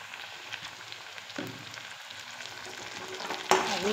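Vegetable fried rice sizzles and is stir-fried in a pan with red chilli sauce and turmeric, a continuous close frying hiss with scraping stirs that swells louder near the end.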